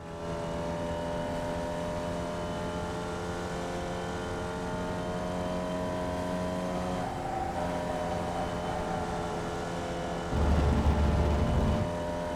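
A Formula Vee race car drives up the hill at Summit Point circuit, its engine holding a steady, droning note that grows louder and rougher near the end.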